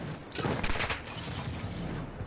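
Heavy gunfire in the video game Spec Ops, a dense rattling fusillade of overlapping shots that fills the whole short stretch, loudest early on.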